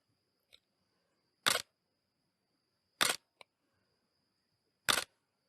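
A single-lens reflex camera shutter fires three separate times, each release a crisp, close mechanical clack with long quiet gaps between, plus a couple of faint small clicks.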